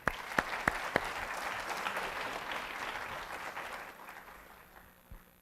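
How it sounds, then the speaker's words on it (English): An audience applauds at a Distinguished Young Women scholarship program on stage, a dense burst of clapping that fades out over a few seconds, with a few sharp claps at the start. "Breanna, let's give her another round of applause"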